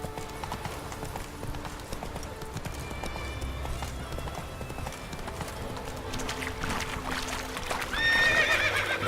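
Hooves of the horse Roach in The Witcher 3 gallop in a quick, steady clip-clop rhythm, with a whinny and game music over the top and the sound rising toward the end.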